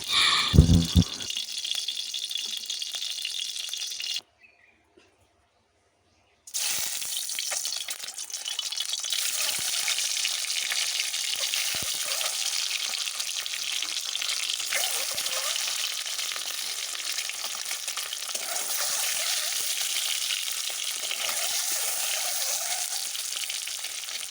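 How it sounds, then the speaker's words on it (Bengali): Eggs frying lightly in hot oil in a wok, a steady bright sizzle that runs almost unbroken after a short pause, close and moderately loud, with no talk. "ডিমগুলোকে এখন আমি ভেজে নেবো হালকা করে"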